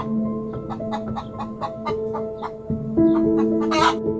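Hens cluck in a rapid series of short, sharp clucks near the microphone, with a sustained higher call rising late in the sequence, heard alone with no speech.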